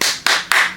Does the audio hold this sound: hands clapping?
yes